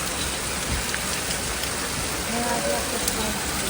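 Heavy monsoon rain pours steadily at a muddy railway station on the Ratnagiri line, a dense constant hiss with faint tones rising briefly near the end.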